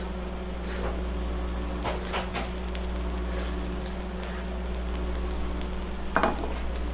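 Okonomiyaki sizzles on a hot iron griddle in a long-running okonomiyaki shop in Mizushima, Okayama, a steady close frying hiss over a low hum with occasional spatula scrapes and clinks.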